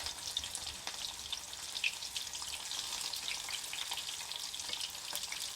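Prawn and vegetable tempura frying in hot oil: a dense, even crackling hiss of bubbling oil that runs continuously, close but fairly quiet, with no talking.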